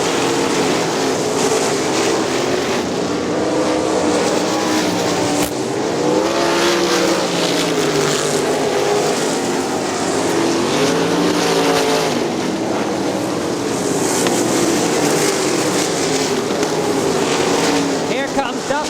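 Sprint cars race on the dirt oval at Crystal Motor Speedway, a dense, continuous roar of several engines with rising and falling pitch as cars pass, under an announcer's steady commentary.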